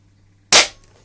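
An Air Arms S200 air rifle with a CZ barrel fires a single pellet, giving one sharp, loud crack that decays quickly into a faint tail against quiet surroundings.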